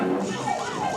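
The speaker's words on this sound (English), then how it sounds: "he rushes in to sound the alarm" A wailing siren rising and falling in pitch, loud and continuous, with other noise underneath.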